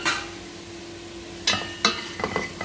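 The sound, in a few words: stirring spices into rice and tilapia in a pan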